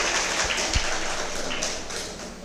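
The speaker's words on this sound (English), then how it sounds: "A big round of applause for that also." An audience at a literature and translation conference applauds, a dense, even clapping that fills the hall and slowly thins out.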